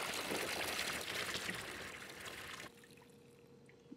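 Liquid pours into a brewing vessel in the game Brewmaster, a steady, bright splashing stream that cuts off abruptly partway through, leaving faint quiet background with a small tap near the end.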